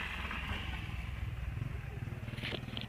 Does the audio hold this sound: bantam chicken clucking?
no